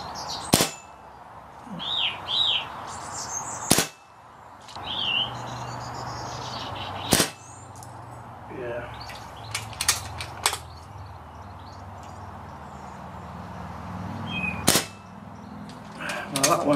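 A Kral Puncher Pro 500 air rifle fires at targets outdoors between 40 and 90 yards, giving sharp, short cracks and mechanical clicks spread through the clip over birdsong and wind.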